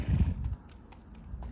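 A five-year-old Haflinger and Saddlebred cross horse, short and stocky, shod on the front, gives a brief low rumbling neigh right at the start, then fades into quiet background.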